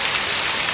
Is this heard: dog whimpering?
no